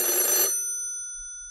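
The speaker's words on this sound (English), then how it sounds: "Hello, stop ringing me, do you hear?" Old-fashioned telephone bell in a radio drama: a brief burst of rapid metallic ringing that cuts off and leaves a clear, slowly decaying bell tone.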